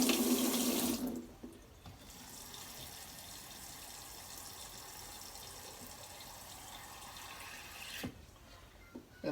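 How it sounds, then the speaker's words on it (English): Cool water runs from a kitchen tap into a container for an olive brine, a steady splashing stream heard close and alone for several seconds before stopping. "the rest cool water from the tap"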